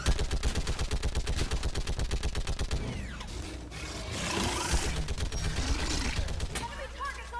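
Gunfire in the video game Mass Effect 3: rapid, evenly spaced automatic shots at moderate loudness, then a mix of scattered bursts, clatter and voices.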